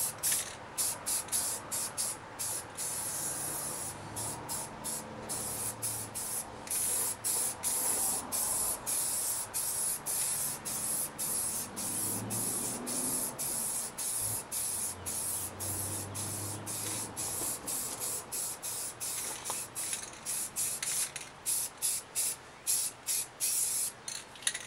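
Spray paint hisses steadily onto a lawnmower dump trailer during a rebuild, laying down a first coat in a long run of close, loud bursts broken by brief pauses as the trigger is released.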